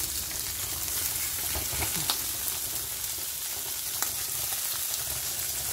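Food stir-frying in a little oil, giving a dense, steady hiss and sizzle close up, with a couple of light utensil clicks and no talking.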